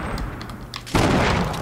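Grenade blast in Fortnite at Tilted Towers, a sudden loud broadband burst about midway that holds as a dense roar, following quieter game noise.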